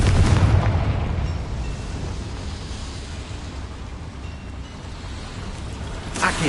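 The Confringo fire spell in Hogwarts Legacy bursts into a heavy, sustained explosive rumble that slowly fades over several seconds, with a fresh crackling burst near the end.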